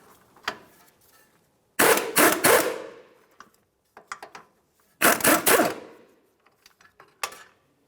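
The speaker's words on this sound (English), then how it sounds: "Let's use an 18mm to remove this nut." An 18mm wrench ratchets loose the upper ball joint nut on a 2002-2005 Ford Explorer front suspension, with two long bursts of rapid close clicking and scattered metal taps between, no talk.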